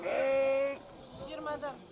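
Sheep bleating at a city livestock market in Kyzylorda, one long wavering bleat followed by a shorter second call, close and loud, with people talking around it.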